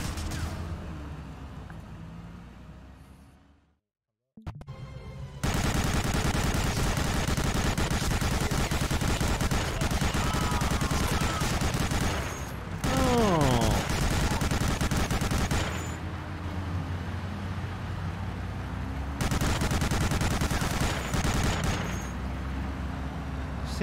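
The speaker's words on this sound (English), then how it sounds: "this is a fucking machine gun" Sustained automatic machine gun fire in the World War II shooter Medal of Honor: Allied Assault, long loud bursts of rapid shots broken by a brief silence and short pauses, with no voices.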